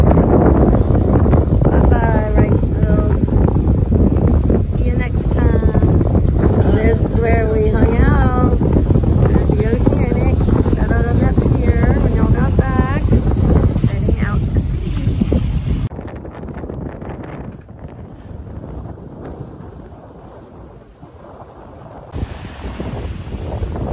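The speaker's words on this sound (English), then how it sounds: "We got a big squall" Strong gusty wind roaring across the microphone aboard a sailboat caught in a big squall on the open ocean, with voices talking over it at first before the wind alone continues, rough and loud.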